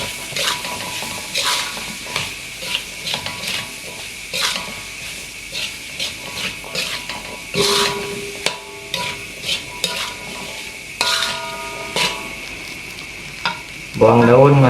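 A spatula stirs and scrapes food frying in a pan for a Sundanese dish, giving repeated close metallic clinks and scrapes over a soft sizzle, with a louder burst of sizzling near the end.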